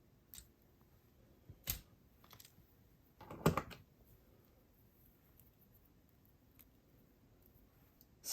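Cutters snip off excess jewelry wire in a quiet setting, making a couple of short, sharp clicks spaced apart, the second one loudest, with near silence between them.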